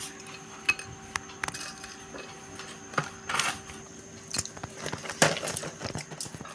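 Papdi crisps and gathiya being set out on a plate for papdi chaat, with light clinks, taps and rustles of dry crisps against a plate in a quiet kitchen.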